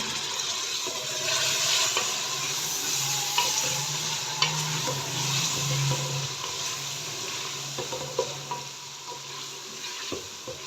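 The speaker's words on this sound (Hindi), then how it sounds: "यहाँ पे थोड़ा सा पानी शामिल कर देती हूँ ताकि मिर्चें हमारी जले नहीं।" Ground chilies and spices sizzle and fry in a pan after a splash of water goes in for dal chana chicken, a steady close hiss with occasional stirring scrapes and clicks, no talking.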